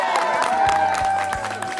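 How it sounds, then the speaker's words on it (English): A crowd at the RBC Race for the Kids charity event claps and cheers in a steady, dense wash of applause, with a tonal hum running underneath throughout. "Give yourselves a big round of applause, first of all."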